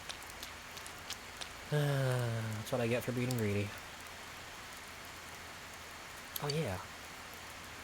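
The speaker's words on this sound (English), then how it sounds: "It's a rainy day" Steady rainfall hisses through a rainy day in the video game Persona 4 Golden, a soft constant wash in the background while someone speaks a couple of short remarks over it.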